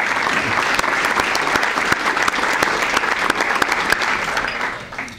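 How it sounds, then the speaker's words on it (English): Audience at a Rotary club membership drive applauding their four speakers, a loud, dense round of clapping from many hands that holds steady and then tapers near the end. "How about another round of applause for our 4 speakers today?"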